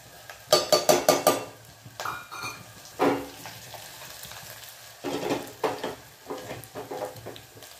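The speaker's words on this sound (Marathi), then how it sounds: "हिरव्या मिरच्या, हिरव्या मिरच्यांना चटके बसू दे अर्धवट" Green chilies scorch in hot oil with cumin and turmeric, the pan sizzling and crackling while a utensil scrapes and clinks in bursts, close and loud with no talking.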